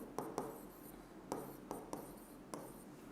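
Numbers are written by hand on paper as a maths lesson is worked through, heard as very faint, close pen scratches in short irregular strokes with no voice over them.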